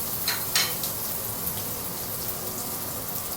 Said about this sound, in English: So we are going to try to brown the shallot or garlic a little bit before we continue.